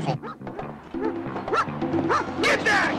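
A dog yips and whimpers in short excited bursts amid a comedy film scene, mixed in with overlapping voices and background music.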